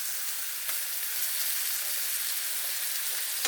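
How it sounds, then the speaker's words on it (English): Ribeye steak sizzles steadily in a hot pan as butter is spooned over it, a continuous bright crackle with a few sharper pops, close and alone without voices. "It's called butter basting."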